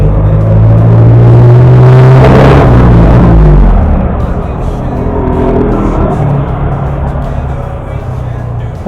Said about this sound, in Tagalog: Pasensya na po at nandito ako sa tabing kalsada.